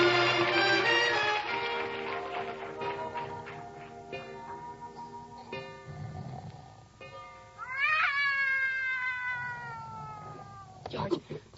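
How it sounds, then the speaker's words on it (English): Cats yowl and caterwaul in a 1949 radio comedy sound effect, long rising and falling meows overlapping in a noisy feline chorus, with occasional sharp accents. "Did you wake me up so I could listen to that cat concert?"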